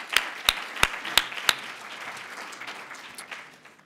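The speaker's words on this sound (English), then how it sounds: "I'd love to give a quick round of applause to all of the people that have put this together every year." Audience applause at a university Three Minute Thesis competition opens with a few sharp, distinct claps, then settles into a steady patter that gradually fades out, with no voices over it.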